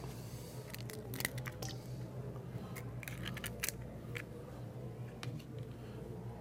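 An egg is cracked for crepe batter in a kitchen, giving a few sharp, brittle cracking ticks and taps scattered through a quiet room-tone background.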